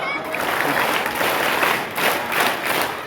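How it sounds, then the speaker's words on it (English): Students at a school Teachers Day celebration clap together on cue, a steady, fairly loud wash of many hands with slight rhythmic pulsing. "Okay, clap."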